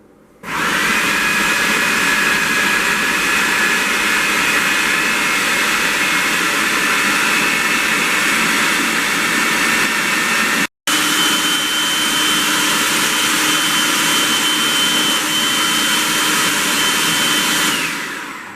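A food processor blending mango habanero hot sauce, a loud steady whirring motor drone running continuously for the whole stretch, with one brief cut-out near the middle.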